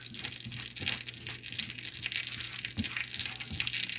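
Butter heats to a steady, dense sizzle in a hot frying pan, a continuous crackling hiss held close and fairly loud for the whole stretch, with faint low clinks from the pan underneath.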